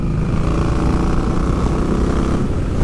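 An Indian Scout V-twin motorcycle engine runs with a loud, steady low rumble and throbbing exhaust note, holding a constant idle-like drone for a few seconds with no speech.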